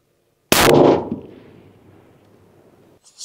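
A single loud 300 Win Mag rifle shot goes off close by, a sharp blast that decays over about two seconds into a rolling echo, followed by a faint clink.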